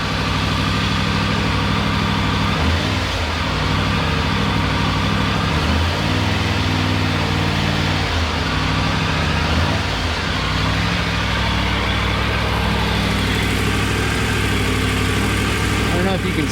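A Triumph Tiger 900 Rally Pro motorcycle idles steadily up close after a coolant flush, a loud continuous engine drone with someone talking over it.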